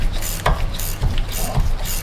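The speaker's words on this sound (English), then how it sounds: "We'll switch over to the ratchety wrench." A ratchet wrench works nylock nuts off the suspension of a Chevy Tahoe, with quick, close, repeated clicking strokes in a steady rhythm and no one talking.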